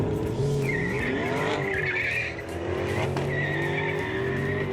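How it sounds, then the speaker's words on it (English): Race car tires spinning and squealing in a long, loud screech over a steady roaring engine, the squeal wavering through most of the moment with a brief dip midway. "I'm spinning the tires now"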